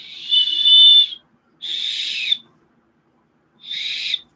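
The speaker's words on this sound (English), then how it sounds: "Yep, and that's a good whistle, too." Three shrill whistle blasts, the first longest, each clean and loud with silent gaps between, close and alone.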